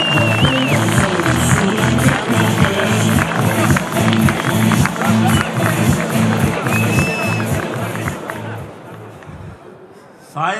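An audience applauds steadily as Azerbaijani President Ilham Aliyev is welcomed to the podium at a formal event, a loud, dense crowd clapping with rhythmic beats underneath, fading out near the end.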